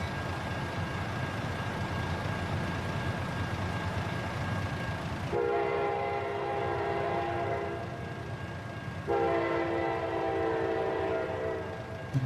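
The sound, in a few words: freight train with many wagons passing in American Truck Simulator video game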